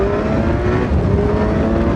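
Kawasaki Versys 1000 motorcycle (2016) engine accelerating on the road, a steady loud roar with whirring drivetrain and wind noise, continuous and close throughout.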